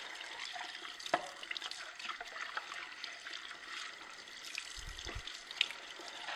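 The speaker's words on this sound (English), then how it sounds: "Run the water through it." Tap water runs over the main unit of a Sana EUJ-606 juicer as it is rinsed, a soft continuous trickle and splash with a few brief knocks and drips, fairly quiet and close.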